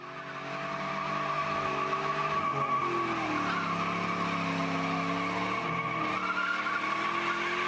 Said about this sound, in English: Sad day for Mustang owners when you get dragged by a Nissan Sentra.